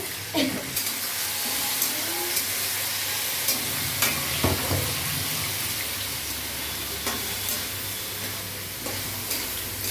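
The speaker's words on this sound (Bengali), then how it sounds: "সব সবজিগুলো একসঙ্গে ভাজা হচ্ছে" Vegetables stir-fry together in a hot pan for fried rice, giving a steady close sizzle and hiss with occasional clinks and scrapes of a utensil against the pan.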